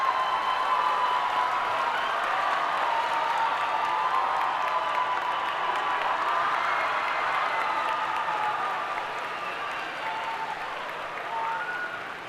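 An audience at a dual enrollment graduation ceremony gives a long, dense round of applause for the graduates, with steady clapping from many hands that fades slightly toward the end.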